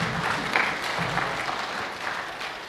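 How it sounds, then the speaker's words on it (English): An audience at a theological seminary graduation ceremony claps together in dense, continuous applause with a faint murmur of voices beneath. "Just let's give a hand clap to the Lord."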